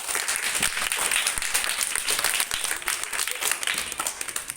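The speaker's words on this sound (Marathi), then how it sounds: "टाळ्या वाजवा मग त्याच्यासाठी" Schoolchildren in a second-grade municipal school classroom clap for a classmate, a dense, steady round of applause lasting throughout at close range.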